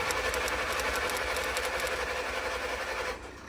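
A Jeep engine being turned over while fuel is fed through it, a steady loud mechanical churn with a fast rhythmic beat that drops off sharply near the end.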